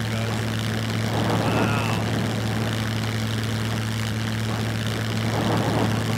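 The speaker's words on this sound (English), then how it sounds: "that plane was far enough away" An airplane passes at a distance in the survival video game SCUM, a steady droning propeller engine hum that swells slightly, with a voice speaking briefly over it.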